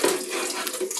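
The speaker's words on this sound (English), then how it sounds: "Now she's just throwing a little bit of water in the can, and you swirl it around." Water is poured into an emptied tomato sauce can while cooking Sunday sauce, giving a steady, close splashing and trickling rush that runs unbroken for the whole second.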